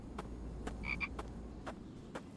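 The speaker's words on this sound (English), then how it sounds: "I hear you, frog." A frog croaks in a video game, several short separate croaks spaced about half a second apart, set over a steady low background hum, with no talking.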